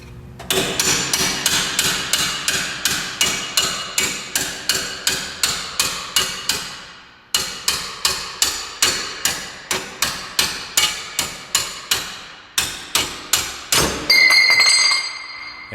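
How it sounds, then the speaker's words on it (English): Rapid, regular metallic hammer blows on a long drift punch driving a suspension bolt out of a 2007 Subaru Outback, dozens of sharp ringing hits in two long bursts with a brief pause, ending in a clinking rattle. "what I'm gonna use is a long drift punch and my hammer"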